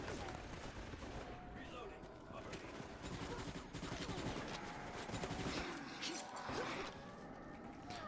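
Rapid submachine gun fire from Resident Evil: Operation Raccoon City, bursts rattling on steadily for the whole stretch amid dense game effects and mechanical clatter, with no pauses.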